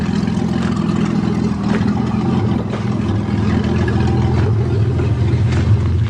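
A 1982 Toyota Cressida with moss and rust on its door cruising along, its engine droning loud and steady with gentle rises in revs and road rumble throughout.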